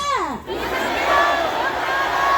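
A large outdoor political rally crowd in Gwanghwamun chants a slogan in unison, a loud sustained roar of many voices following a speaker's amplified call.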